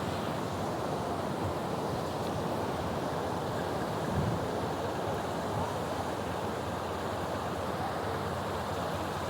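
Sea waves break on Teknaf beach in Bangladesh, a continuous loud surf roar mixed with wind buffeting the microphone, with no clear voices.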